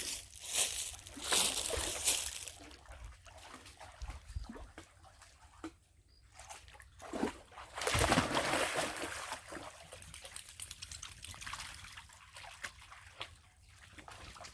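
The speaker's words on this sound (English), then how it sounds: "Both dogs now are enjoying the creek." Two dogs splash and slosh through shallow creek water, irregular bursts of splashing and trickling rising and falling, with quieter stretches of running water between.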